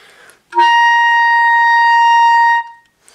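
A single sustained altissimo C on clarinet, played with thumb and register key, sounds clearly for about two seconds, steady and bright, starting cleanly and ending abruptly.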